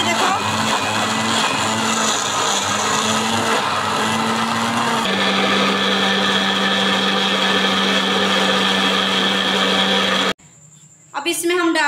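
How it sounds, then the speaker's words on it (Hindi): A juicer machine grinding mango for kulfi, a loud continuous motor whine and churning that shifts pitch midway, then cuts off abruptly near the end with brief talk after. "इधर मैंने जूसर मशीन को चला लिया"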